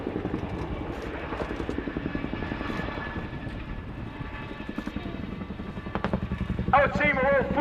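A Boeing Chinook CH-47 HC2 of the Royal Air Force flies a display at the RIAT 2017 airshow, its twin rotors thudding in a rapid, steady beat at moderate distance, with a commentator talking over it.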